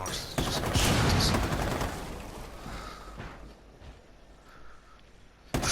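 Gunfire in the video game Rainbow Six Siege, a loud burst of rapid shots that trails off into scattered fainter reports and rumbling, with another sharp shot at the end.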